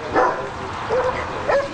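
An Amstaff-Rottweiler mix dog gives a few short, close yipping barks with whimpering tones, loud and without talk.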